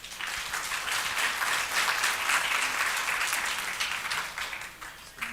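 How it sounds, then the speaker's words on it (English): An audience at a community engagement panel discussion gives the panelists a round of applause: dense, steady clapping that holds for several seconds at a fairly even level before thinning slightly at the end. "Can I please ask a round of applause for the panelists?"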